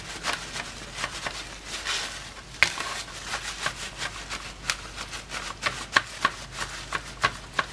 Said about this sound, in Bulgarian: Взимам си малко хартия и я подсушавам.